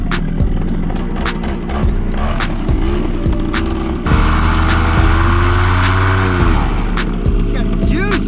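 A SkyMax paramotor with a titanium muffler runs up under throttle, its engine and propeller making a loud, close buzzing roar that surges higher midway and holds steady with rattling clicks.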